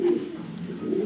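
Black Danish pigeons coo softly and steadily at close range, a low continuous murmur running through the whole moment without any voices.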